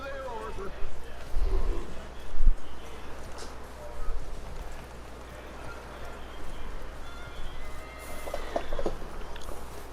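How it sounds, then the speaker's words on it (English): A horse in the video game Red Dead Redemption 2 clops and snorts softly beneath steady in-game dialogue and rustling ambience. "That looks like a decent horse."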